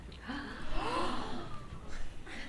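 Students in a classroom gasp together in a short, breathy group intake, moderately close and rising then fading, with faint murmuring after.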